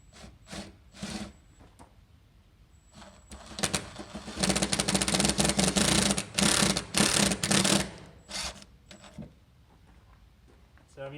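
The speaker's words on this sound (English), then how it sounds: "So we're going to drop some self-taps in here." Self-tapping screws (#12, 1-inch Tek) driven by a power driver into a shore power plug mount on a boat, a buzzing whir building from about 3.5 to 8 seconds in bursts, with some short clicks and handling noise before and after.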